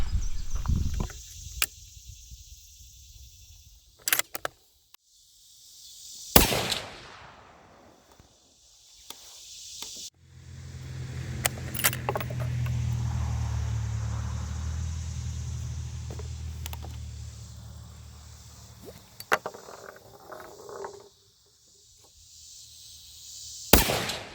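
Sharp, loud rifle reports from a 6.5 PRC firing 120-grain Speer Hot-Cor bullets ring out several times with gaps between them, each crack followed by a brief echo across an open outdoor range.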